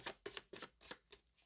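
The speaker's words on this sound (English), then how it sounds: "right now I'm shuffling the cards." An oracle deck of cards is shuffled by hand, giving about six quick riffling bursts in a rhythmic sequence, close and fairly quiet, with no talking.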